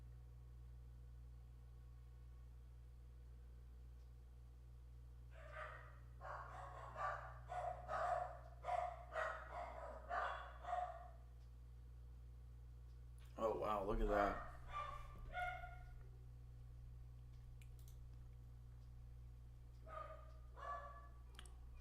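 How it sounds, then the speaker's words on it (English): Several dogs bark indoors in bursts of repeated woofs, a long run early on, then a louder close cluster and a few later barks, over a steady low hum with brief talk. "Sorry for the dogs, by the way."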